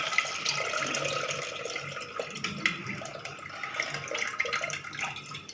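Water poured off washed puffed rice in a kitchen, a soft, continuous trickle and splash of draining liquid with faint drips, fairly close and alone.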